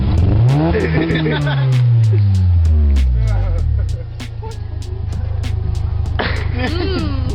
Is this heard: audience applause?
no